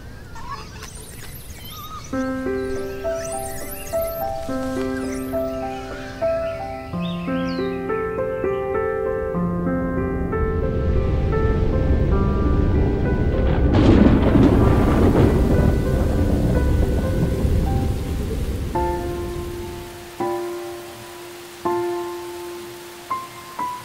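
Steady rain with deep rolling thunder builds and swells through the middle of a mountain forest scene where snub-nosed monkeys shelter in May, under soft sustained music tones, then fades to quiet.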